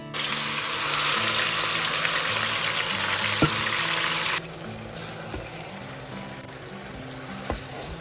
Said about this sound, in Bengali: তেলটা গরম হয়ে গেছে জাস্ট এটাকে ঢেলে দেবো ছিটকে আসবে